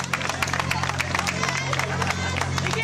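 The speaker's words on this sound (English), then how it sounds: "Epic now getting this crowd riled up and into it" A wrestling crowd at a Brawl USA event cheers and claps steadily, a dense roar of applause and shouts filling the arena, with a commentator's voice running over it.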